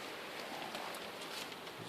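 Steady rain falling outdoors near a truck at dawn in bear country, a soft, even broadband hiss with faint patters, continuous and fairly quiet with no voices.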